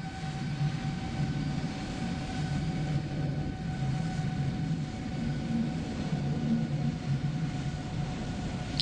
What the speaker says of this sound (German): Langer Lauf, ne, für so ein kleines Flugzeug.